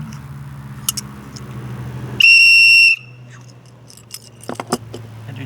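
A store-bought whistle gives a single loud, piercing blast lasting under a second, set against a low rumbling hum with scattered clicks and jangling before and after.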